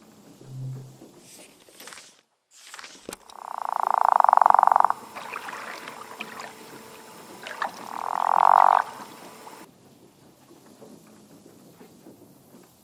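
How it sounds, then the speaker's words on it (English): Frogs croak in a mating-season scene from the video game SEASON, two loud, buzzing croak bursts standing out close by, separated by quieter ambient chirps and rustle, with a few faint calls before them. "it's mating season for frogs"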